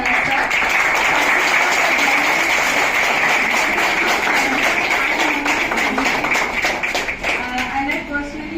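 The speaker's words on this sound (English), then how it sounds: "A huge round of applause for Shri SRD Prasad sir." A crowd applauds loudly at a Kalari academy ceremony honouring a Padma Shri recipient, with dense, sustained clapping that thins and tapers near the end.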